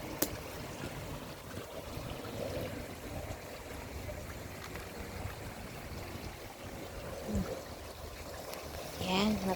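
Irrigation water flows steadily onto a fig tree in a continuous, near trickling and pouring wash that runs the whole time, with brief voices breaking in near the end.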